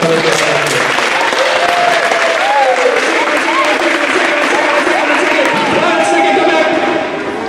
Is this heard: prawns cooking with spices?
no